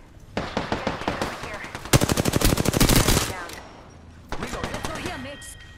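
Rapid automatic gunfire in the Apex Legends video game, close and loud bursts of fast rhythmic shots, one long dense volley in the middle, then a shorter burst after a brief pause.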